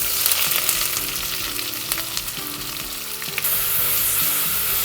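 Sliced onions hit hot oil already crackling with mustard seeds, cloves, cinnamon and curry leaves, a close, busy sizzle with sputtering pops and stirring scrapes, which surges louder as more onion goes in near the end.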